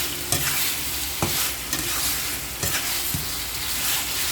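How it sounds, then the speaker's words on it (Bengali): Eggs go into a frying spiced curry of potato and pointed gourd, with soft sizzling and a few sharp scraping and tapping spoon strokes against the pan, close and fairly quiet. "এখন ডিমগুলা দিয়ে দিন"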